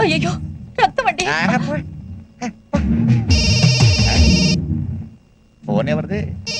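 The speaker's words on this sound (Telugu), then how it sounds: "ఫోన్ ఎవరిది?" A telephone rings in a Telugu film scene: a bright electronic ringing tone sounds for about two seconds in the middle, set between stretches of dialogue, with people talking before and after it.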